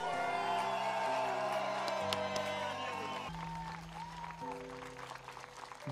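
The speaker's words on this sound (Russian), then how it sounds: "Богдан Зайченко, Юрий Дрифтовский, Юрий Рак, ваши аплодисменты!" Crowd applause and cheering for drift competition winners at a Pro-Am drift event, steady clapping that fades a little under music while an announcer talks over it.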